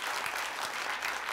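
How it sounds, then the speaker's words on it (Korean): Audience applause after a short song at a Korean concert talk, dense, even clapping from many hands filling the whole moment. "긴 노래가 아니라도 박수를 쳐주시는군요."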